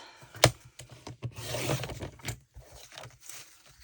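Scissors cutting around a sheet of gel print paper, giving sharp snips and rustling paper close by, with irregular pauses between cuts.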